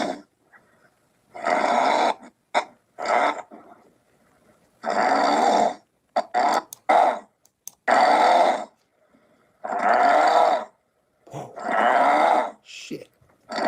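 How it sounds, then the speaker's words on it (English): A man's loud snoring played back from a recording: a run of heavy, rasping snore bursts in an uneven rhythm, separated by short silent pauses. "And he snores like this."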